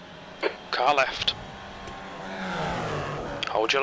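A Formula Vee race car sweeps past on the Oschersleben circuit with a rising and falling engine drone, heard under a driver's radio voice that speaks in short bursts.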